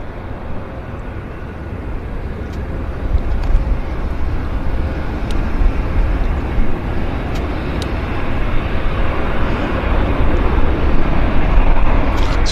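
A WestJet airliner in swoop colours landing at Vancouver Airport, a broad distant jet roar that swells gradually over several seconds, steady and without voices.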